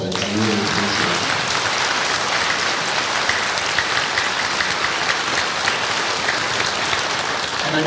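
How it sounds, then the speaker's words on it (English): Audience applause at a middle school honor band concert, a full, dense crowd clapping steadily at close range for the whole stretch, with some voices mixed in. "If we can give them a round of applause, I really appreciate it."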